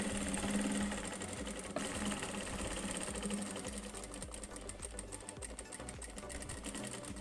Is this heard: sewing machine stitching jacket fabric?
yes